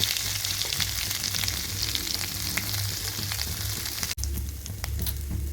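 Mustard seeds, cumin and ginger-garlic paste frying in hot oil, a close, steady crackling sizzle with scattered pops and a brief break before it resumes.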